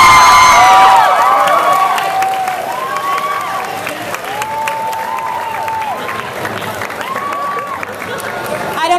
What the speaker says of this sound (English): I don't know if that was enough applause, guys.